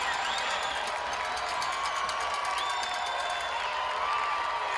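Football stadium crowd at a Charleston Southern versus North Greenville game, a broad steady roar of distant voices and cheering that holds constant throughout, with faint whistle-like tones rising and falling over it.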